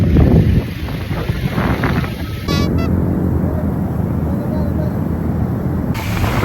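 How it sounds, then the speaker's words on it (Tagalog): Strong wind at the beach in Liwliwa, Zambales, buffets the microphone in a steady roar at sunset, with gusty rumbling throughout and faint background sounds beneath. "Grabe naman ang hangin."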